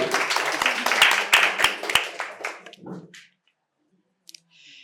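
Loud, dense clapping from a quiz audience at a medical college hospital, cheering a winner, fading out after about three seconds into near silence with a faint voice.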